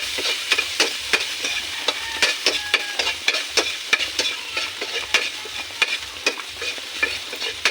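Ginger sizzles in hot oil in a pan, with a steady frying hiss throughout and frequent sharp scraping clicks from stirring, close and clear with no talking.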